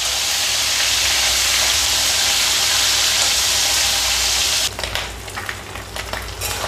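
Hilsa fish heads frying in hot oil, a loud, steady sizzle that holds evenly, then drops suddenly into softer, uneven crackling and spitting near the end.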